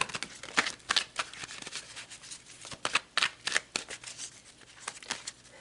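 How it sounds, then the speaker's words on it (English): A deck of tarot cards is shuffled close up, giving repeated soft riffling and slapping bursts at an uneven rhythm with no talk. "So let's pull some tarot."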